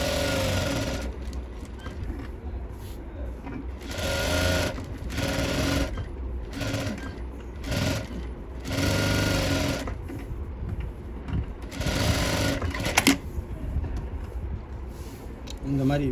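Domestic sewing machine running dummy tacking stitches around a sleeveless keyhole-open blouse, a steady mechanical whir in repeated bursts with short pauses between runs, while someone talks over it.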